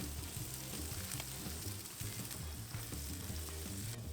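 Smashed chicken sizzles on a hot grill, a constant close crackling fry with a few soft scrapes as the meat is shifted.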